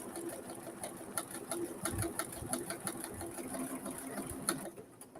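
Sewing machine stitching a regular buttonhole on a Ginger jeans project, a close, steady whirring with rapid ticking needle strokes that stops near the end.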